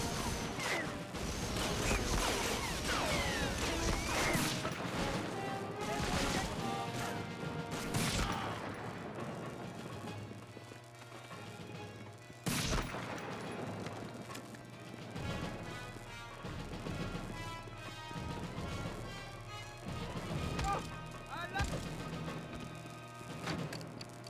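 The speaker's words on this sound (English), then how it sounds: "The explosion ruined my aim there." Explosions and gunfire from the World War II shooter Medal of Honor: Frontline, a dense, continuous battle mix of crashes, bursts and impacts with a sharp loud blast near the middle, layered over a sustained soundtrack.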